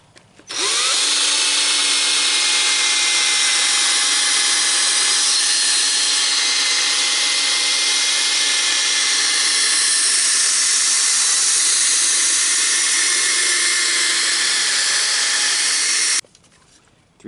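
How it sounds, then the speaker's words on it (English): A drill-driven 3000 grit foam pad dry-sands a car headlight lens, giving a loud, continuous high whir that runs steadily for about fifteen seconds before stopping abruptly. "next we're going to attach the 3000 grit foam pad. The light has to be dry on this one"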